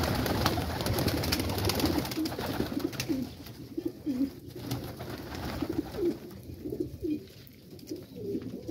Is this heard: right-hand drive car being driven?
no